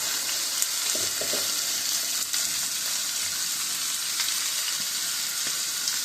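Beef chuck pieces searing in a hot pan give a loud, dense, unbroken sizzle up close, with a few faint knocks of movement and no one speaking.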